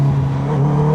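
A motorcycle engine gives a quick, loud rev, a close, steady droning tone held for about a second.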